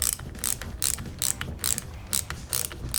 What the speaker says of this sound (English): grab your bladed screwdriver and simply tighten those ones up